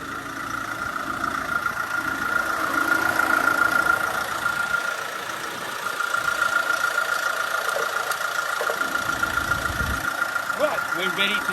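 A motorhome engine idling steadily before driving up a ramp, a continuous mid-pitched hum with a faint whine, running at moderate loudness the whole time.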